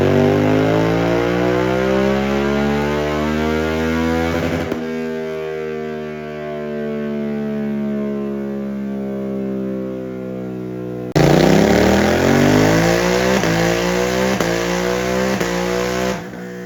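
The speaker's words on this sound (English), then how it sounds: "After the tune, the bike runs well with the MIVV exhaust. It is definitely on the louder side." A Suzuki GSX-8S motorcycle fitted with a MIVV full exhaust, revving loudly up and down, steady rising and falling engine tone close by, with a sharp jump in revs near the end and no talking.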